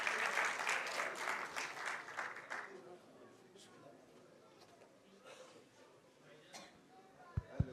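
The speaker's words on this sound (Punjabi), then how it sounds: "ਇੱਕ ਵਾਰੀ ਫਿਰ ਖੁੱਲ੍ਹ ਕੇ ਤਾੜੀਆਂ ਮਾਰੋ ਨਾ ਜੀ" An audience at an international Punjabi conference claps in a burst of applause that is loud for about three seconds, then fades to scattered claps and murmuring under speech.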